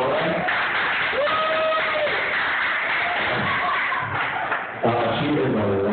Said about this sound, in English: If you want to give a warm applause for Miss Mama Dora.